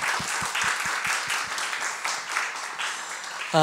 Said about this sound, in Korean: 우리 하나님께 영광 박수 올려드리겠습니다